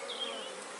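Honeybees buzz steadily around an opened hive frame during queen rearing with a Cloake board, a dense continuous drone with a few louder passing wings, close and alone without voices.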